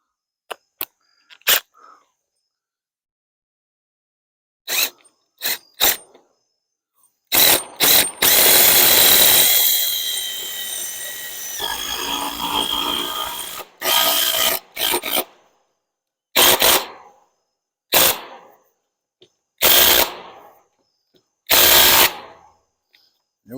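A power driver sinking a half-inch lag bolt with washers through a 10-inch wheel into the wooden frame of a mobile sheep pen, heard as repeated loud bursts of whirring and grinding separated by silences, with one longer continuous run.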